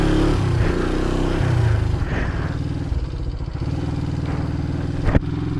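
1973 Honda CL350 motorcycle being ridden, its engine a steady, loud drone with rough rumble and rattling, heard close and continuous, with a sharp clack near the end.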